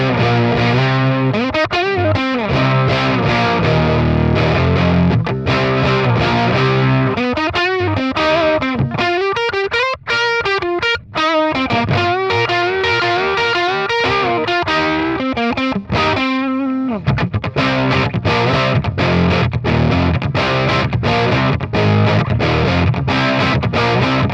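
Electric guitar played through a Behringer Super Fuzz pedal in blended mode, fuzz mixed with a dry boosted tone: a loud, continuous distorted riff with sustained chords and busy single-note runs, played alone with no talk.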